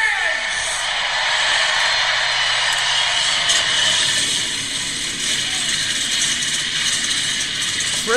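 Stock race cars roll off at the start of the Coca Cola 600 at Charlotte, a loud, continuous, raspy engine roar that stays dense and steady throughout.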